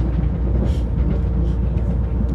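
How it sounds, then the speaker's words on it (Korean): An electric shuttle train runs between Jeongdongjin and Donghae, heard from inside as a steady, loud low rumble with faint rattles and a constant mechanical hum. "전동 열차잖아."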